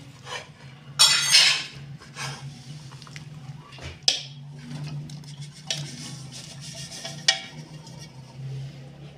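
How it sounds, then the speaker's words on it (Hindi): Roasted gram flour being stirred into sugar syrup in a pan off the heat for besan barfi, with scraping and clattering of a spoon against the pan, a few sharper knocks, steady and close. "इसको हमने अच्छे से शीरे के अंदर मिक्स कर लेना है।"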